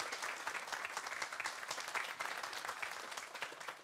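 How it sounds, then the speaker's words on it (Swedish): An audience at a live Swedish debate event applauds a guest being welcomed onto the stage, a steady, dense round of clapping from many hands, fairly faint and even throughout with no voices. "Applåd."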